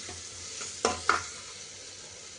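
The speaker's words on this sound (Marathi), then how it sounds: "हे दोन्ही चांगलं परतून घ्यायचं आहे." Ginger garlic paste sautéed with green chillies hisses faintly in a pan, with two brief louder scrapes of a spatula stirring over a quiet steady sizzle.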